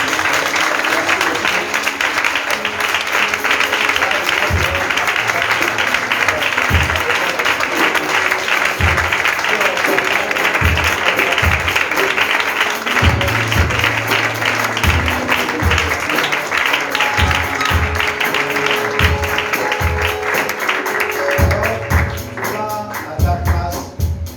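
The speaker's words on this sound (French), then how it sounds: "Est-ce qu'on peut acclamer notre Dieu?" Church congregation applauding and clapping together, a dense, steady wash of hands sustained through most of the stretch, with music and voices mixed in underneath.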